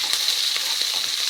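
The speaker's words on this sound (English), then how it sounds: "And it's on sort of low to medium heat. And let those onions cook through" Onions fry in a pan over low to medium heat, giving a brief, even, close sizzle with faint crackles and no voices.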